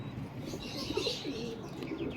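A pigeon coos softly and repeatedly at close range, its low rounded calls over a steady background hum with no talking.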